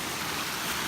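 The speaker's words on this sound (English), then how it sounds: "But there's a creek right there." Creek water flowing steadily beside a footbridge on an Appalachian Trail hike in Virginia near White Top Mountain, a constant broadband rush heard close and alone on a chilly day.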